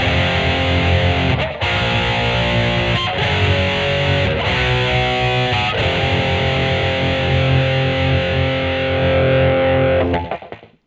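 Electric guitar played through a Peavey Vypyr VIP 2 amp with boosted treble, heavily distorted sustained chords struck several times with brief breaks between them, then cut off abruptly at the end.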